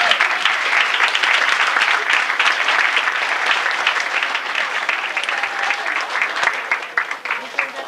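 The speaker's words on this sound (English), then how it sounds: "This is the person that deserves an applause." Audience applause fills a festival guest panel hall, dense and steady clapping from a large crowd throughout, slightly tapering toward the end.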